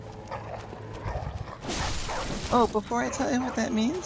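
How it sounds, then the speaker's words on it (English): Several dogs bark and yelp in a dark gothic city amid clattering combat sounds, while a person talks over the start. "here's some dogs."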